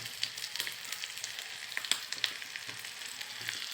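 Steady, soft sizzle of egg paneer pieces shallow-frying in a pan, a continuous hiss with scattered small pops, fairly quiet and without any voices.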